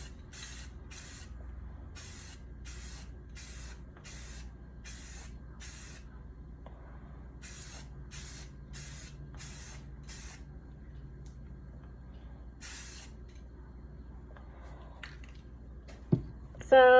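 Short bursts of aerosol spray paint hitting a stainless steel tumbler, about a dozen evenly spaced hisses in two runs, then quiet with a brief clatter at the end.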